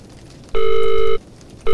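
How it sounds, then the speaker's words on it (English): A loud electronic phone ring in the video game Visage plays in two bursts, a long tone followed by the start of another, over a quiet background. "Oh, it's ringing."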